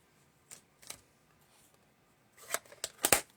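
Scissors cutting paper for a stamped tea bag card craft, a few quiet separate snips early, then a faster cluster of sharper snips near the end, alone without talk.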